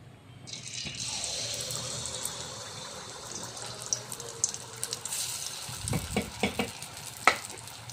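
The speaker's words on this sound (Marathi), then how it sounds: "हा मालपुआ एक आपला तळून झालेला आहे।" Sweet potato malpua deep-fries in a small kadai of hot oil with a steady hiss that swells after the batter goes in, then gives way to clattering ladle and utensil knocks near the end.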